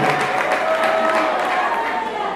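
Applause from guests at a 50th birthday party held at home, a dense, continuous patter of many hands clapping with some cheering voices mixed in, fairly loud and close.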